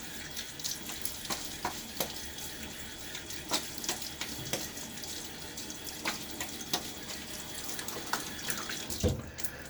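Water runs steadily from a tap while a razor is rinsed during a wet shave with a Gillette Nacet blade, a continuous close splashing wash broken by small clicks and taps, with no talking.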